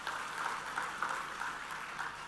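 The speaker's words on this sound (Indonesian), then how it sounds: "Berikan tepuk tangan untuk TNI dan Polri kita." Applause for the TNI and Polri rises from the audience at a large religious gathering in Banten. Steady, moderately faint clapping rolls on without break, with a few slightly stronger swells.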